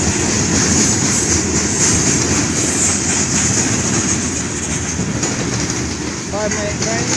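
A Union Pacific freight train rolls through Effingham, Illinois, a loud continuous rumble of wheels and wagons with rhythmic clatter and a faint wheel squeal near the end.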